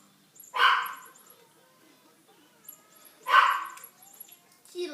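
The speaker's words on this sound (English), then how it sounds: "I don't even know what Duke's barking at" Duke the dog gives two loud, separate barks a few seconds apart in a quiet indoor morning setting, with a faint short sound trailing at the end.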